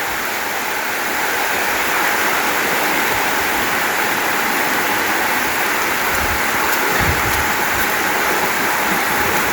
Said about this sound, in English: Yeah, there's a lot of water coming down here.